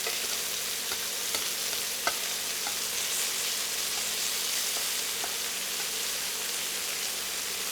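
Marinated Hawaiian-style smoked pork sizzles and fries steadily in a pan just after being flipped, a dense crackling hiss with a few sharp pops, close and alone.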